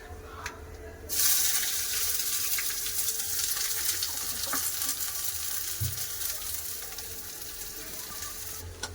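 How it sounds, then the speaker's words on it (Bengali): Chopped onion and black nigella seeds hit hot oil, setting off a loud, steady sizzle that keeps up evenly throughout, with no voices. "তেল গরম হয়ে গেছে ফোড়ন দিয়ে দেবো কালো জিরে কেটে রাখা পেঁয়াজ"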